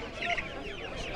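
Ornamental chickens, about 35 days old, cluck and chatter softly at close range at a poultry market, a steady jumble of short calls with no voices.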